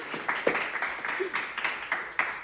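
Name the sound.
applause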